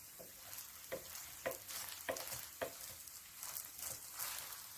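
Eggs and rice noodles frying for pad thai in a pan, a steady faint sizzle with rhythmic stirring scrapes about every half second, no talk.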